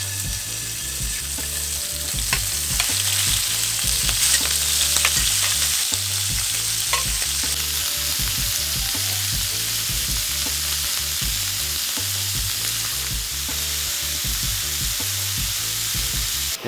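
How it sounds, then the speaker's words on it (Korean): Lightly salted meat sears in a hot pan for curry, like a steak, with a loud, steady sizzle and frying crackle throughout and occasional stirring or scraping, with no voices. "스테이크 굽듯이"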